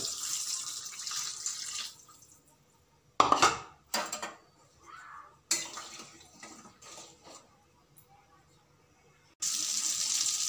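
Water being poured into a pan of thin rohu fish curry, with bursts of splashing and running water broken by pauses and light clinks of the pan, close and moderately loud, with no talk.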